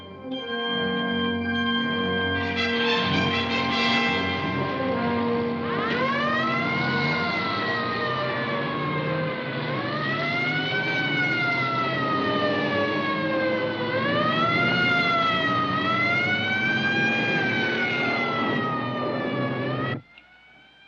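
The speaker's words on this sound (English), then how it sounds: "That's not the crash siren. Listen, it's constant." A loud siren wails continuously, its pitch rising and falling in long sweeps for about twenty seconds before cutting off abruptly.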